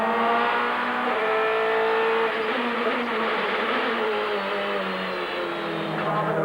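A DTM Mercedes touring race car at full throttle on a hot lap, its engine a loud, continuous high-pitched whine with a slowly shifting pitch, heard close and on its own.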